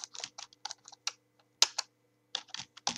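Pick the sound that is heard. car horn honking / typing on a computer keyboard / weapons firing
typing on a computer keyboard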